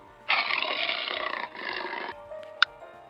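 A jaguar roars in two long, rough bursts, loud and close, followed by a short sharp squeak near the end.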